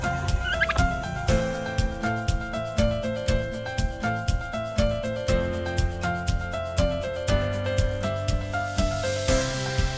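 Turkeys at an animal park in Sukabumi: rapid, repeated gobbling calls in a steady pulsing rhythm, loud and close, continuing throughout.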